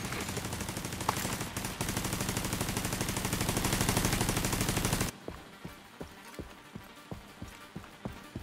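Dense, continuous rapid gunfire in The Division 2 video game roars for about five seconds, then gives way to scattered sharp shots and impacts at a lower level.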